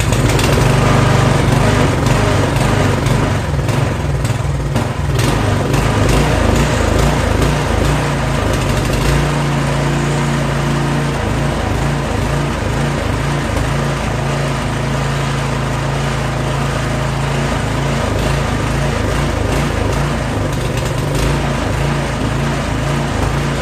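A Troy-Bilt snowblower with a 208cc engine runs loud and steady close by, its harsh mechanical drone rising and falling slightly with throttle, no voices over it.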